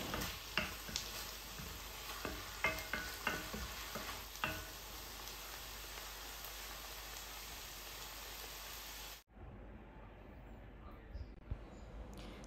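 Blanched vegetables are stir-fried in a pan, a steady sizzle broken by scraping clacks of the spatula for about nine seconds before it cuts to a quieter room.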